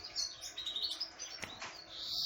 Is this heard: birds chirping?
yes